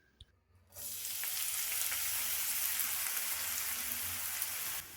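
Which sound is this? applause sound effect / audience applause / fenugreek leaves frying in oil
fenugreek leaves frying in oil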